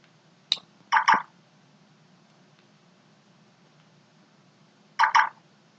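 A mobile phone rings at close range in short repeated bursts, one ring then a pause of several seconds before the next, over a quiet background hum with no talking.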